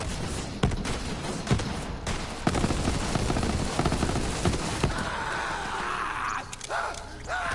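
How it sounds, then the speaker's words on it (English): Screaming in the Borderlands video game, mixed with dense gunfire bursts and explosions, loud and chaotic, with shrill cries rising near the end. "All the screaming in this game"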